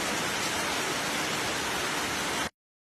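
Heavy morning rain pours as a loud, dense, uniform hiss with no voices, then stops abruptly.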